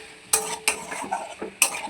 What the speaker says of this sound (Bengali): এই মাশরুম দিয়েই এটাকে ভালো করে কষাবো